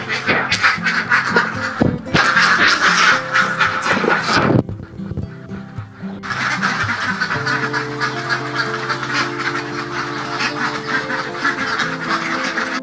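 Many ducks quack steadily on a duck farm in Trirejo, Loano, a dense, close chorus that briefly drops off before resuming and running on without talk.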